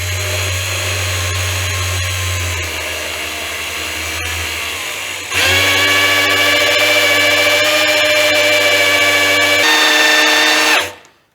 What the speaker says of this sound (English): we'll get the old Wrist Breaker 6000 drill out